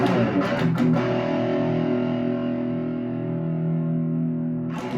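A Mclorence Stratocaster electric guitar at full distortion gain: a heavily distorted chord rings out loud and sustained after a few quick picked notes, slowly fading with a fuzzy, saturated tone.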